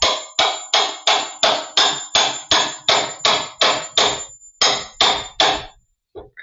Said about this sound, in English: I'm going to take the hammer and just tap it in a little bit